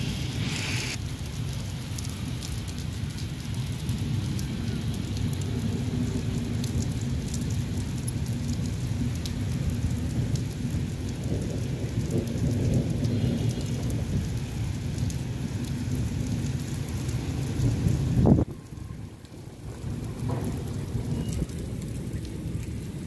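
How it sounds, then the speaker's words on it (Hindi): Heavy morning rain falls outdoors in a continuous loud roar, with thunder rumbling low beneath it and a brief louder swell near the end before the downpour eases slightly. "सुबह जब मैं उठी हूँ ना तो काफ़ी तेज़ बारिश हो रही थी।"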